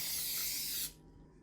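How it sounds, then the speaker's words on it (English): A short burst of cooking-oil spray hisses onto peanuts in an oven dish, steady and close for under a second before cutting off abruptly into quiet. "I'm going to give them a light coating of spray oil."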